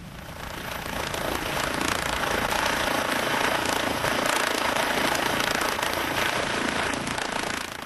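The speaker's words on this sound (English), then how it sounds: "A helicopter is the best way to get them there." A helicopter's rotor thumps steadily and loudly throughout over Arctic sea ice in the Northwest Passage, a dense, continuous chopping roar with no voices.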